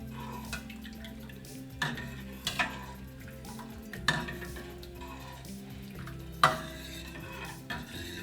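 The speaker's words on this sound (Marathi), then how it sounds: "याच्यामध्ये आपण ताक घालून घेऊया एक ग्लास ताक घेतलेला आहे मिक्स करून घेऊया" A spoon stirs buttermilk into cooled jowar ambil, making soft sloshing with scattered light clinks against the vessel at irregular intervals, close up and without voices.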